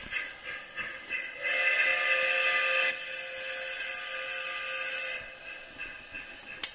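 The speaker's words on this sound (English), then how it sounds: "You can hear the 6-beat chuff, the 5-chime whistle, and that Shay also has a fan-driven smoke unit." A Lionel Legacy Shay model locomotive gives a steady hissing chuff with a sustained multi-tone chime whistle swelling loud early on, then continuing more softly; close and alone with no talking.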